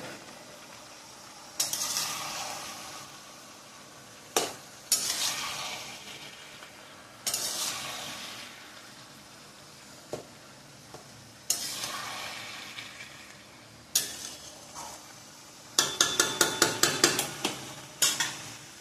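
A spoon stirs hilsa fish head curry with Malabar spinach in a pan, making repeated scraping strokes over a soft simmering sizzle, with a quick run of rattling scrapes near the end.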